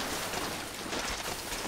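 Rain beginning to fall in the GTA V video game, a steady broadband hiss that fills the whole clip at moderate level, with no voices over it.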